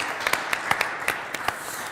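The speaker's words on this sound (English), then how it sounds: "I think they deserve a round of applause" Applause from a conference audience after a panel discussion on cybersecurity, a sparse run of distinct individual claps over a soft room wash rather than a full ovation, fairly close.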